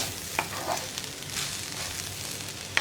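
Spring onion stir fry tossed and stirred in an iron pan over low flame, a soft continuous sizzle with a few sharp scrapes and clinks of the spatula, close and alone without talk.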